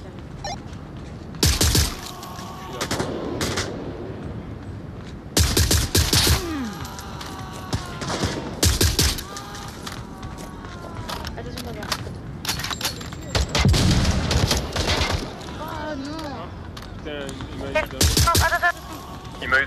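Bursts of gunfire ring out in the VR shooter Onward in a co-op match, with loud clustered volleys at irregular intervals and quieter stretches between them, while players talk over the action.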